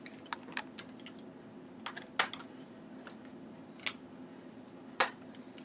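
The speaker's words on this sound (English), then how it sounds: "it says punch out the tiles from planks 3 and 4 and shuffle them into the stack" Cardboard tiles from a board game plank are punched out one by one, giving scattered sharp pops and snaps at irregular intervals, some in quick pairs, against a quiet room hum with no talk.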